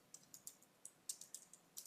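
Keystrokes on a computer keyboard while entering code for a first Java app, about a dozen quiet, irregularly spaced clicks in a near-silent room, heard alone.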